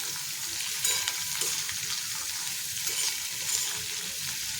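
Kantola (spiny gourd) frying with salt and turmeric powder is stirred in a pan, giving a continuous close sizzle with light scraping of the spoon.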